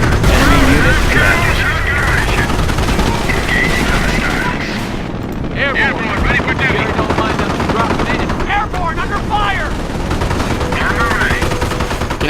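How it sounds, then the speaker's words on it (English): Oxygen tanks blown up amid battle in Company of Heroes at Sottevast during the Normandy invasion, with dense gunfire, machine-gun bursts and booming explosions layered together, loud throughout while a voice talks over parts of it. "we're now about to go ahead and also destroy these oxygen tanks"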